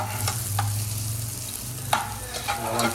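Prawn biryani masala frying in a pan with a steady sizzle throughout, and a few sharp stirring scrapes and clinks of a spoon against the pan.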